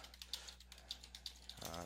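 Light, irregular clicks of typing on a computer keyboard, faint and close, with a short voiced sound near the end.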